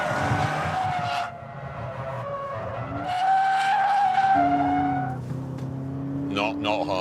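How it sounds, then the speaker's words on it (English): A Toyota GT86 slides at about 80 mph around a hammerhead bend on a test track, with loud tyre squeal and engine howl rising and falling in long drawn-out bursts. Someone talks over the noise. "How hard is it to slide this thing at 80 miles an hour the wrong way around the"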